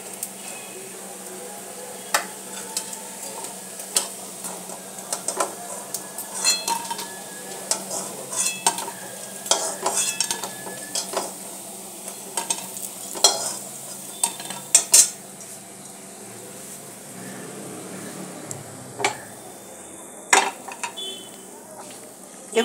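Potato pakoras fry in hot oil in a pan with a steady, bright sizzle, while a utensil clicks and scrapes against the metal again and again throughout, close and fairly loud.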